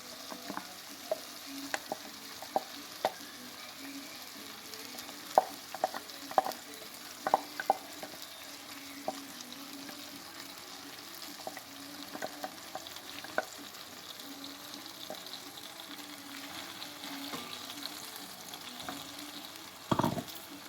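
Ridge gourd softening in a pan for a masala curry, a low steady sizzle with scattered light taps and clinks of a spoon, faint and close, ending in a louder clatter.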